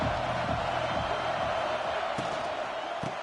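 A stadium crowd in the NCAA 26 college football video game keeps up a steady, dense roar that never lets up, with faint thuds and whoops scattered through it.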